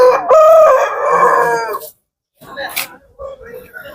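A rooster crows loudly and close at a Tuesday livestock market in Erode district, one long drawn-out call followed by clucking and market noise, with someone talking nearby.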